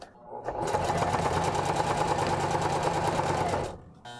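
A heavy duty sewing machine stitching through four layers of 1000D Cordura, one continuous fast rhythmic whir lasting about three seconds, close and loud, with a brief voice near the end.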